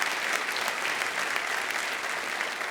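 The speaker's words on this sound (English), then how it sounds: "may I just invite one more round of applause for Robert Rosenkranz for making this possible" A large audience claps for Robert Rosenkranz, a dense, even wash of applause that runs loud and unbroken through the whole moment.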